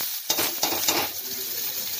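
Boiled sweet corn hits hot oil in a pan and sizzles, a steady bright hiss marked by a few sharp spoon or pan clinks near the start, close and without speech.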